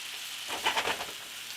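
Steak and potatoes sear in a pan with a soft, crackling sizzle that swells briefly in the middle, heard close but fairly faint and alone.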